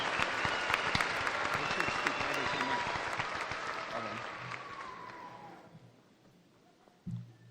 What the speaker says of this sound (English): Can we get a round of applause for everyone here tonight?